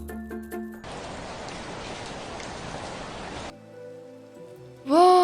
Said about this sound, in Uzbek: Voy, kuchli yomg'ir yog'yapti.